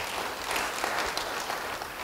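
A congregation at a church sermon claps as one, an even, sustained wash of applause at moderate loudness lasting a couple of seconds with no voices over it.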